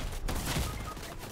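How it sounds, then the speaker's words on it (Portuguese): A shotgun blast in Fortnite, heard as a dense burst of gunfire that fills the mix, loud and harsh against a noisy game background, with no talk. "eu tomei um tiro de 12"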